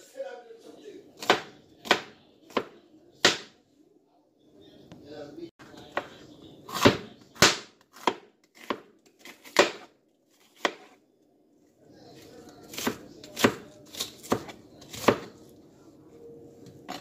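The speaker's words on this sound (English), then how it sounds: "I'm just chopping them up to put in the blender" Sharp knife chops on a cutting board strike in uneven bursts as vegetables and garlic are cut up for a Jamaican brown stew beef blender mix, each hit crisp and close.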